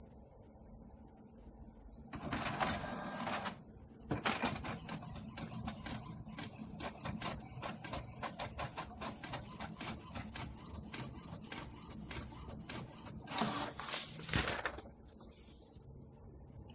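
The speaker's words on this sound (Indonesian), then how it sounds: "Kita tes print ya." An HP DeskJet GT5810 inkjet printer runs a test page, giving a steady high mechanical whine with rapid rhythmic ticking of the carriage and louder bursts of feed noise near the start and end, close and with no talking.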